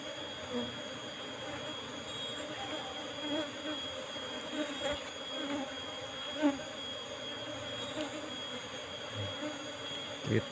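Apis cerana honey bees swarm around a hive trap while it is smoked for harvest, making a steady, dense buzz throughout with a few nearby thumps and handling knocks, and faint voices under it.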